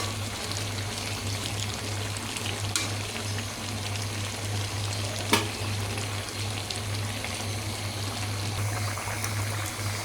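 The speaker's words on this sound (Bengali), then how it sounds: "এখন পরিমাণ মতো ঝোল দিয়ে দিব," Fish and ash gourd curry simmers in a pan with a continuous hiss and bubble while broth is poured in, a low hum underneath and a couple of faint clinks.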